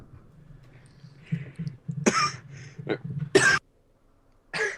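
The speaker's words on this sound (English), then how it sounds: "I could probably in character cough at that point, actually" Several sharp, loud coughs break out close by, separated by pauses, with low murmuring voices underneath between them.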